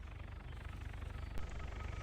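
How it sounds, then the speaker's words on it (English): An approaching helicopter in the Arma 3 military game gives a faint, low, rhythmic rotor thump with a steady engine drone underneath. "Helicopter inbound. That doesn't sound like our chopper."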